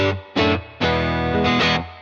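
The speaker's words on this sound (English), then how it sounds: "the Dream is just coming right up the center with this nice longer reverb tail" Electric guitar chords through stacked UAfx Dream '65, Ruby and Woodrow amp pedals in stereo ring out in three strummed bursts, each fading into a long, wide reverb tail, with a thick, effected tone.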